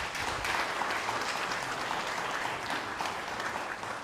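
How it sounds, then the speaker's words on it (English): Audience applause for a speaker at a Pacific research and innovation panel, steady dense clapping that holds at an even level for the full four seconds with no voices over it. "So a round of applause for Dame Te Wheeler Percival."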